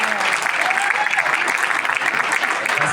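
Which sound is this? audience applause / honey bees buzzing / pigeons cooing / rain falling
audience applause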